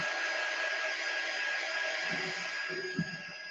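A hair dryer drying a craft project, a steady whirring blow with a high whine running throughout, plus a few soft thumps of handling near the end.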